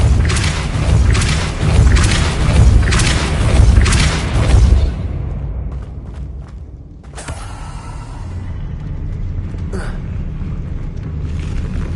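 Depulso spell cast in Hogwarts Legacy, a loud booming magical blast with a rumbling, pulsing burst that cuts off abruptly, followed by quieter creaks and a low ambient hum.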